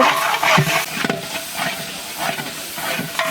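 Onions sizzle in a large pot of hot oil for biryani at an outdoor community Iftar cooking, a steady loud hiss with crackling bursts throughout.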